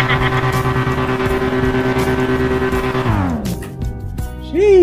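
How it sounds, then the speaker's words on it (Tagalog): A customized old abandoned car in GTA V revs loudly with a steady engine drone, then drops in pitch as it eases off, and a short screech follows. "napakaingay nung makina."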